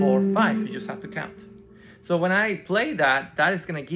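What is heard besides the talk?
None of the usual background noises is heard.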